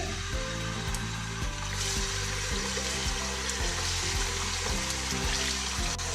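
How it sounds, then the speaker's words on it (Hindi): Beef pieces fry in a pot for nehari, a steady close sizzle with rhythmic stirring and scraping repeating throughout. "गोश्त को फ्राई कर लेंगे"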